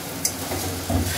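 Gobindobhog rice frying with spices for khichuri, a brief steady sizzle with a sharp stirring clink and scraping, no voices.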